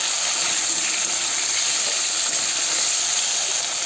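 Sliced onions and slit green chilies frying with potatoes in hot oil, an even, loud, close sizzle that holds steady throughout without any talking.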